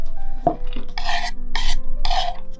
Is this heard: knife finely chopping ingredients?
yes